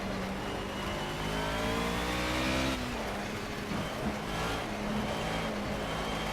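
A Mercedes 190E in Project CARS revs on a rainy track, the engine pitch climbing and dropping through gears under careful throttle, a steady close engine drone with a brief shift break in the middle.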